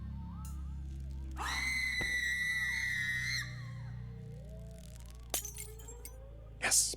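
A character in the video game The Feast lets out a loud, sustained scream that lasts about two seconds over quiet in-game ambience. Faint clinks and a sharp crash follow near the end.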